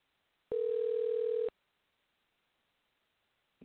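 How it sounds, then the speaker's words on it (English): A telephone ring on an outgoing call to a hotel purchasing office: one steady electronic ring tone lasting about a second, then a long quiet stretch and a brief faint sound at the end. "That's a weird ring."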